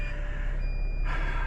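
An RV sounds a continuous electronic warning tone when the engine starts with its auto levelers still down, a steady high beep held under low engine rumble, shifting slightly near the end.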